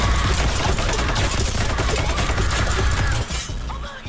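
Rapid gunfire from a comedy sketch, a loud continuous burst of overlapping shots like a fusillade that runs almost the whole time, briefly dipping before a final flurry.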